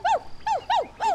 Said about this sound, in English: What is dog trying to tell Neno?